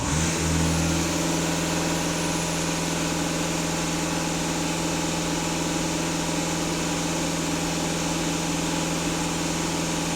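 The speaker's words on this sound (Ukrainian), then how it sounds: "даю газ в пол" A Skoda Kodiak 2.0 TDI EA288 diesel engine is held at full throttle, a loud, steady, sustained drone after a brief change in pitch at the start, with no talk over it.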